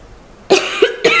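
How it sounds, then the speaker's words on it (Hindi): Three sharp coughs in quick succession, close and loud, with a short quiet before the first. "मुझे बहुत खांसी आ रही है।"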